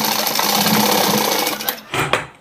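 A close sewing machine runs loud and fast, stitching a kurta collar, then slows and stops in a few short bursts near the end.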